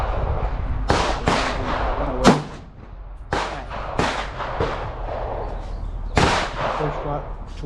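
Gunfire at an outdoor shooting range, a series of sharp loud shots, roughly seven or eight, spaced unevenly over several seconds, with light background noise between them.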